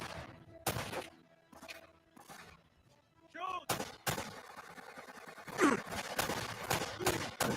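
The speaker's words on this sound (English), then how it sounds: "Where am I getting shot from? Sniper up." Sniper gunfire in the video game Uncharted: Drake's Fortune, several sharp shots and impacts scattered across the stretch amid game effects and a voice talking.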